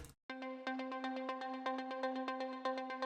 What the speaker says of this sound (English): I'm gonna add in some delay and reverb